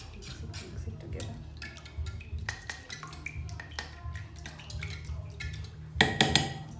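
A utensil clinks and taps repeatedly against a metal sufuria pot as eggs are mixed, in quick, irregular strokes close by, ending in a louder clattering burst.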